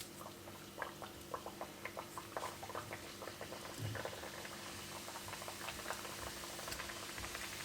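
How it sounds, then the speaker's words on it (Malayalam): Pooris frying in hot oil in a wok, a steady bubbling crackle with many small pops and spits throughout, close and even in level, with no talking. "ഞാനിങ്ങനെ പൂരീസ് ഇങ്ങനെ ഫ്രൈ ചെയ്തുകൊണ്ടിരിക്കുകയാണ്"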